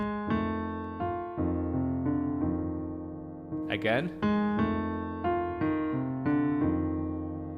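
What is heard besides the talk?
piano playing 12 bar blues left-hand pattern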